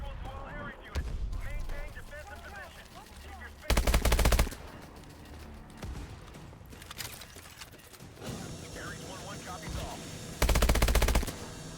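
Automatic gunfire in Call of Duty: Advanced Warfare comes in two loud, dense bursts amid a busy battle soundscape of distant shots and effects, with voices talking over the action.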